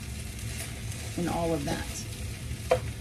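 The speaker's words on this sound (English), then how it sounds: "You're gonna cook this for about 1 to 2 minutes, and you know, don't be afraid to get the rice unstuck from the bottom" Kimchi fried rice sizzles quietly in a pan while being stirred, with soft frying and a brief scrape near the end, under a short spoken remark.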